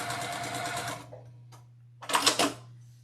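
Sewing machine stitching a quilt seam along a diagonal line, a close rapid mechanical whirr for about a second, a pause with a low hum, then a second short burst of stitching.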